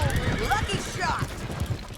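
Horse in Red Dead Redemption 2, hooves clip-clopping in a quick rhythm with a loud neigh midway, close by, over talking voices.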